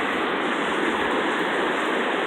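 River rapids swollen by recent flooding and heavy rainfall roar in a dense, steady, close rush of white water that never lets up.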